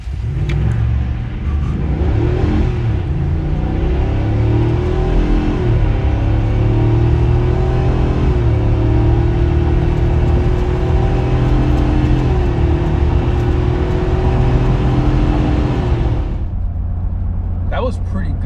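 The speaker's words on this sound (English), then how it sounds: "Let's see how this one sprints to 60 miles an hour." A 2024 Ford F250 pickup with a 6.8L gas engine and 10-speed transmission accelerates to 60 mph, a loud sustained engine roar with rising gear-shift tones inside the cab before cutting off.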